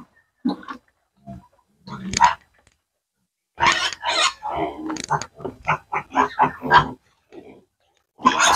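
A sow on a farm gives a run of loud, close grunts and snorts in bursts, with quiet gaps between.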